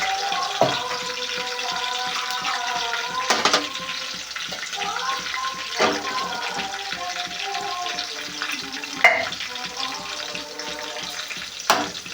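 Green chillies frying in a pan for Amalapuram-style fish curry: a continuous soft sizzle with occasional louder spatters and stirring clinks, a steady hiss under the whole stretch, no talk.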